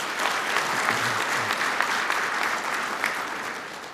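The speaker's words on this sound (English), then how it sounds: "if you could give them a round of applause" A crowd applauds state troopers and dispatchers at an awards ceremony, with dense sustained clapping from a full room that tapers slightly at the end and a faint murmur of voices beneath.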